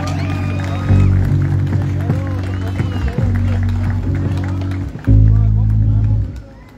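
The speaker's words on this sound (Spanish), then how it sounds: "Aplauso, por favor." Audience applause and crowd noise at a dance talent show selection night, swelling at about one second and again near five seconds. It rises over steady loud music and a hum of voices.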